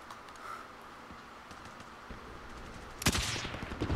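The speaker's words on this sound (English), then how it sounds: "They're shooting at him." Gunfire rattles in a Modern Warfare quads match: steady distant shooting throughout, then a loud, close burst of rapid shots near the end.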